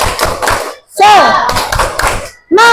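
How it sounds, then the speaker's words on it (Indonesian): A classroom of pupils performs a rhythmic clapping chant, sharp claps and slaps landing in quick patterns while children's voices call out together between the beats. "Kita tepuk semangat dulu ya."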